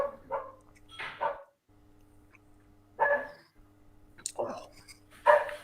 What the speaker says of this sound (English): That's the sound of the dog agreeing with us.